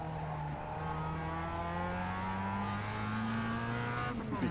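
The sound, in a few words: Mazda Cup race car engine in iRacing video game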